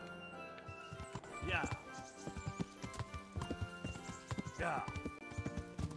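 Horse hooves clip-clop at a steady riding gait along a path in Kingdom Come: Deliverance, close and continuous, with a voice speaking briefly over the hoofbeats.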